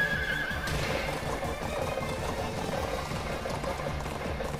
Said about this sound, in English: I run faster than you because I got a fancy, smancy horse